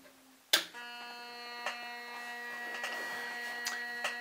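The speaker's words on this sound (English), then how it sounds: "This is a mechanical color television that I built using the Arduino Due. I'll let it run for a minute or two" A mechanical colour television built around an Arduino Due starts with a sharp click, then settles into a steady electrical hum and whine with faint ticks as it runs, quiet and close.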